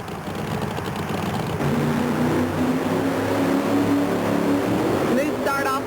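A 1938 Chevy pulling truck, the 38 Special, revving and launching off the line at a truck-pulling event, a rough engine roar that steps up in pitch after a couple of seconds, with crowd and announcer-style sound around it.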